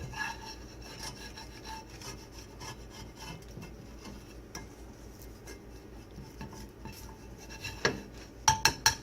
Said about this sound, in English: I'll go ahead and show you what it is to clean up the pot